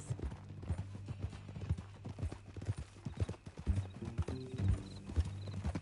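Horse hooves clip-clop in Red Dead Redemption 2, an uneven run of fairly close hoof strikes on ground, with a faint whinny and other game sounds mixed in.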